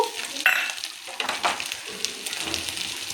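Chicken fry sizzling in a pan with chilli powder, coriander, cinnamon and clove powder, stirred now and then; a steady crackling fry with a few louder scraping stirs, no talk.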